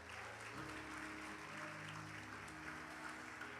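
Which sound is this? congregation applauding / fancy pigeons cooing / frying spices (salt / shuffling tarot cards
congregation applauding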